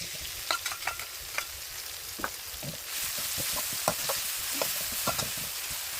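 Chili and garlic hit hot pork fat for a Thai basil stir-fry, clinking stirs at first, then a steady close sizzle swells up with scraping spatula strokes.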